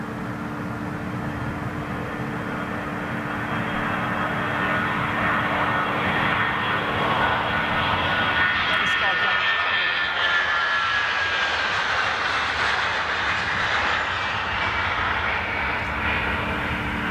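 A KLM Boeing 737 jet roars steadily, its engine noise broad and loud throughout, swelling as it passes close by with a rising whine near the middle.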